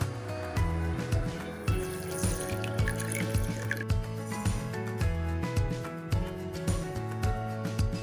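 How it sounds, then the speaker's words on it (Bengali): Water pours and trickles into a bowl of two kinds of mustard seed set to soak for a fish curry, a steady close splashing with a rhythmic knocking beneath it and no talk. "2 রকমের সর্ষের মধ্যে একটু জল দিয়ে কিছুক্ষণের জন্য ভিজিয়ে রাখবো।"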